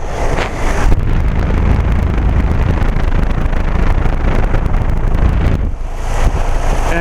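A 2009 Rheem Classic Series 5-ton heat pump outdoor unit running in heat mode outdoors in freezing weather, giving a steady, loud broadband roar with a fan-like rush that continues throughout, briefly dipping near the end.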